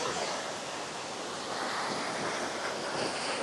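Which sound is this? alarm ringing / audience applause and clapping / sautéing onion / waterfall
waterfall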